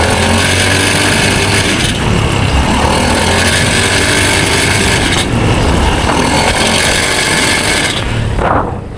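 A motorcycle engine makes an abnormal, very loud noise: a harsh, continuous mechanical roar and grinding that holds steady at close range for several seconds, then tapers off near the end.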